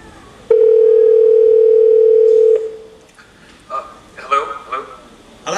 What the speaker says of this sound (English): I'm just going to dial his number.